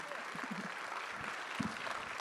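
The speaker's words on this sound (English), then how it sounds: "Please give a round of applause to Sharon" Audience applause fills a conference session hall at SXSW EDU 2025, a steady dense wash of many hands clapping at once, with voices faintly mixed in.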